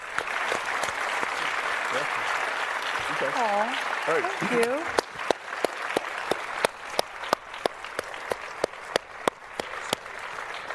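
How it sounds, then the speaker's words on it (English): Audience applause after a keynote session at a corporate conference, a wash of clapping with a voice speaking over it, thinning out into scattered individual claps toward the end. "So please join me. A round of applause."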